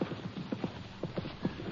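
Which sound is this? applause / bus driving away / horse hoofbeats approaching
horse hoofbeats approaching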